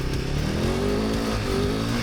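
Royal Enfield Himalayan 450 motorcycle engine running steadily under light throttle while riding through thick, greasy mud, a continuous close engine drone with no revving bursts and no voices.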